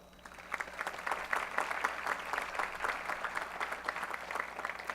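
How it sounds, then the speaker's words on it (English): A medical school graduation audience applauds in a steady, moderately loud wash of many hands, with no talking over it. "So we should give him a round of applause as well."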